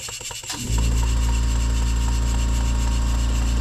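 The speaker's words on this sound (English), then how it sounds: "that silly compressor had to kick on." An air compressor kicks on beside a running model Stuart beam steam engine, rising from a rhythmic mechanical chatter into a loud, steady motor drone with a deep hum that fills the rest of the clip.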